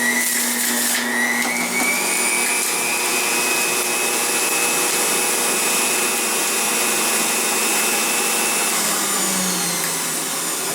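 A celery-filled juicer for green juice runs with a loud, continuous motor whir and high whine, steady throughout with a slight shift in pitch as produce feeds through.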